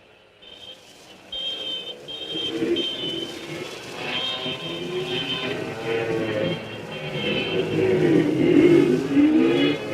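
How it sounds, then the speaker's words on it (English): Motorcycles drive by in a low-budget Bigfoot movie soundtrack, their engine drone and whine building steadily louder over about ten seconds with no talking. "here comes some motorcycle guys going by"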